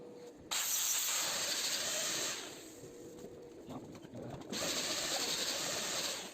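Welding a square stainless steel stair rail pipe produces two long, steady crackling hisses separated by a quieter pause, close and fairly loud, with no talk.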